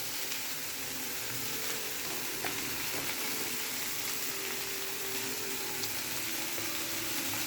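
Kissan sauce hits a hot frying pan and sizzles, a steady close crackling hiss with scattered pops and a little stirring, continuous throughout.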